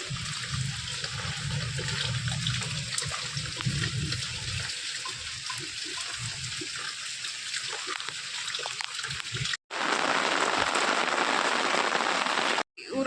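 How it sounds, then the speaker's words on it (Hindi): Heavy rain pours onto surfaces in a village, a steady roaring hiss that continues throughout. Two brief cuts interrupt it, and a louder, closer spray of water follows the first cut. "इतनी तेज़ बारिश हो रही है"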